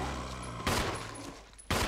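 Gunfire in the Resident Evil Remake video game: two sharp, loud broadband blasts roughly a second apart over a low background hum, with a faint high tone between them.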